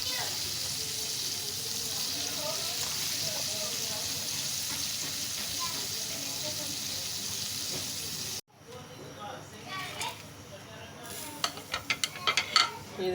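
Milk heats in a pan for sheer khurma on a home kitchen stove, giving a steady, close bubbling hiss that stops abruptly and is followed by quieter clinks and handling noises.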